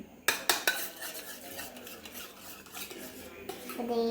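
Eggs being beaten for an omelette, a utensil clinking and scraping against a bowl in quick irregular strokes, close and fairly quiet, with sharp knocks near the start.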